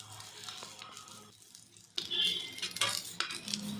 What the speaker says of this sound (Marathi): आता आपण हे चांगलं तेलामध्ये परतवून घेऊया.